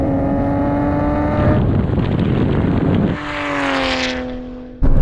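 Nissan GT-R cars, an R34 among the R32, R33 and R35, racing past in a straight-line drag race: loud, sustained engine roar with rising gear tones, a sharp shift midway, then another surge and an abrupt jump at the end.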